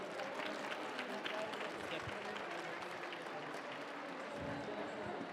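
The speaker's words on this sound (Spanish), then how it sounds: "Aplauso, por favor." A community project presentation audience applauds in a dense, fairly faint wash of clapping that runs continuously, with murmured crowd noise underneath.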